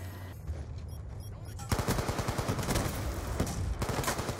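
Automatic AN-94 rifle fire fired from the hip in Black Ops 2 rings out in a rapid, loud burst of shots that runs continuously for about the last two and a half seconds, after quieter game sounds.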